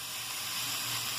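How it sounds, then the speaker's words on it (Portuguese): Bacon and sausage fry in a pot over the stove, a loud steady sizzle and hiss of hot fat that cuts off abruptly at the end. "aqui está no fogo o bacon, a linguiça, já está fritando"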